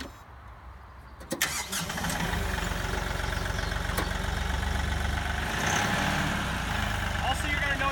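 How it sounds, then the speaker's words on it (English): A Kioti NX6010 HST compact tractor with loader and grapple cranks briefly, then catches and settles into a steady, fairly quiet diesel idle that continues throughout, heard up close. "We're gonna start this thing up and we're gonna lift up the grapple"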